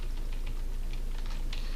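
Light, quick clicks of fingers typing on a computer keyboard, close and soft over a steady background hiss, with no talk.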